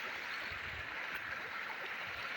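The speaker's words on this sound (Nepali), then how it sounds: "खोलामा हिँड्दै गरेको गाइस" Stream water flowing steadily while someone wades through a jungle stream on a trip to gather pig feed, a continuous broad rushing wash with low uneven splashy movement beneath.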